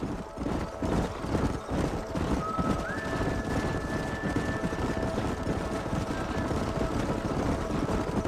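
Several horses ridden at a gallop in the Red Dead Redemption video game, with rapid, overlapping hoofbeats that pound steadily and densely throughout, joined midway by a thin, sustained whistling tone. No one speaks.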